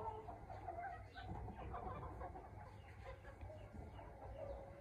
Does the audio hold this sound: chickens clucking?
yes